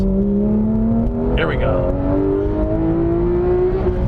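Porsche 991 GT3 engine revving hard above 7,000 rpm from inside the car, a rising high-pitched wail climbing steadily, loud and continuous, with a brief spoken remark over it.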